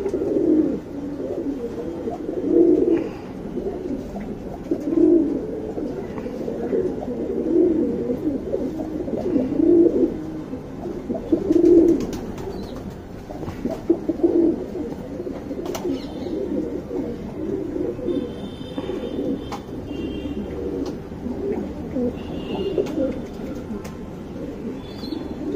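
Guldar pigeons kept as fancy birds coo in low, repeated rolling calls at a steady pace, fairly close, over a constant murmur of background noise.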